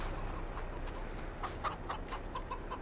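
Chickens cluck in the Farming Simulator 22 game, a few short repeated clucks over a steady low ambient background, moderately quiet and without talk.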